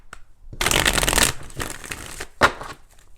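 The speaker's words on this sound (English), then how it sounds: "Let's go ahead and do 4 shuffles and really pull the energy" Tarot cards riffle-shuffled close up, a burst of rapid fluttering followed by a shorter second riffle and a sharp snap as the deck is squared.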